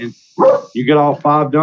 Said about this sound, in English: Excuse my dogs, they're excited.